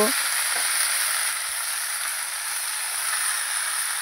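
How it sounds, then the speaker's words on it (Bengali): Sweet pumpkin pieces fry in a pan, a strong even sizzle and hiss close up, with a few soft stirring knocks near the start and no talk. "সুন্দর করে নাড়াচাড়া করে নেব কুমড়োগুলো"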